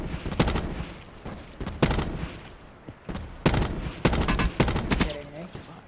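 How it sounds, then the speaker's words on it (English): Gunshots from a squad-based Blackout battle royale match ring out in several sharp bursts of repeated shots, some spaced apart and some in quick clusters, loud and near with no talk over them. "Bunch of shots."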